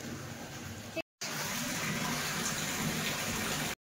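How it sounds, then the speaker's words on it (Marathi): Heavy rain pours down in a steady, dense hiss close by, with a brief cut of silence near the start. "पाऊस बघा किती पडतोय, खूप दिवसांनी पाऊस पडतोय"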